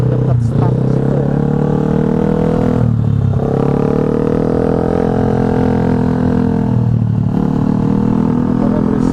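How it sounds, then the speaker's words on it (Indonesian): A loud, noisy motorcycle engine drones steadily up close while riding a commute to work, with the pitch rising and dipping through several throttle changes. "motornya berisik banget."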